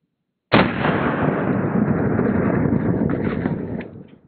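A pistol round fired at close range, about fifteen feet from the muzzle, into stab-proof Level IIIA body armor: one sudden sharp loud report after silence, then a long rumbling echo that fades over several seconds.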